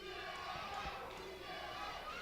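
Wrestling fans cheering at a PowerBomb Wrestling event, a steady, faint wash of crowd noise from across the arena, with a few thuds from the ring and commentary voices over it.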